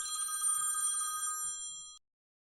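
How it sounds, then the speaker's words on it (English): An old-style telephone bell ring set as a phone ringtone, a bright rapid metallic trill sounding steadily for about two seconds and then stopping abruptly, heard alone without talk. "I set my phone to an old phone ring"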